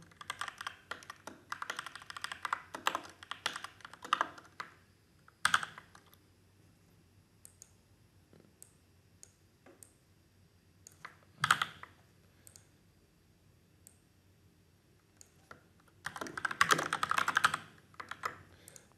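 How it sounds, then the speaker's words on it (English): Typing on a computer keyboard comes in quick bursts of close, crisp key clicks, separated by quiet pauses, with a denser run of keystrokes near the end. "and we'll type over here."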